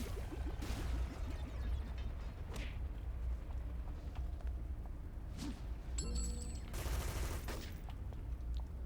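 Gunfire aimed at the player in City of Heroes, with scattered shots and a rapid burst near the end, set among mechanical clanks and ratcheting effects at a fairly low level.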